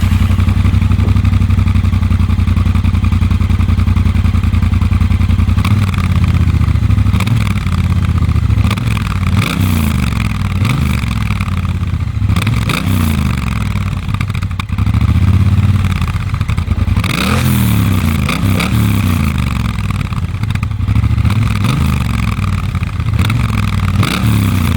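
Triumph Bobber Black motorcycle exhaust heard up close, a loud steady idle that shifts into repeated blips and revving pulses rising and falling throughout, with no talking.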